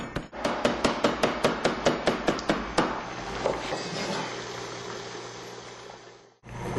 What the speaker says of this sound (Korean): 손으로 일일이 썰고 다져내는 맛과는 차원이 다르다